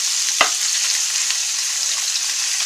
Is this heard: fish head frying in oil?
yes